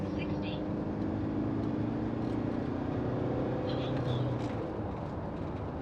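A Fiat Ducato motorhome with a 2.2 L engine, tuned, cruises at about 50 km/h in third gear, giving a steady engine drone and road rumble from inside the cab.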